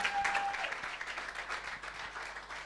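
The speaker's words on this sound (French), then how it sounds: "On applaudit encore très fort pour Maman Otto." Sustained audience applause for Maman Otto at a Maajabu Gospel contract-signing ceremony, steady dense clapping throughout with a brief tonal whistle-like note near the start.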